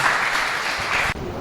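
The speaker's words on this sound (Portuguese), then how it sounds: "As palmas exaltam Jesus." Applause fills a church service honoring Jesus, a dense, steady wash of clapping from the congregation that cuts off abruptly near the end.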